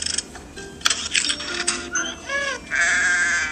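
A goat bleats several times in short, wavering calls among livestock, with clinking metallic noises and other farm-animal cries mixed in, fairly close and moderately loud.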